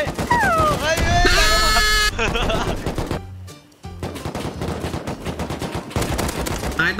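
Gunfire in Rust, rapid bursts of shots dense and loud for several seconds, pausing briefly before resuming, with excited voices talking over them.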